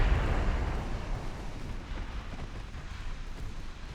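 Battleship main-gun shells strike home in the naval game Ultimate Admiral Dreadnoughts, a loud, rumbling explosive boom that opens strongly and then rolls on as a sustained low roar.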